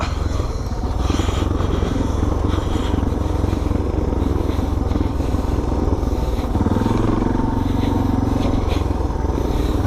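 A DRZ400 or DR650 dirt bike rolls down the Tolleys Track at Neerim East, its engine droning loudly and continuously with wind buffeting and gravel clatter, revs shifting partway through.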